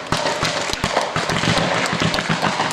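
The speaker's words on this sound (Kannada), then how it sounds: "ಸಂಭ್ರಮದ ಪಟಾಕಿಯನ್ನು ತಾವು ಕೇಳಬಹುದು" Celebratory firecrackers burst at a school celebration in Gulbarga, a rapid near continuous string of loud sharp cracks and pops close by.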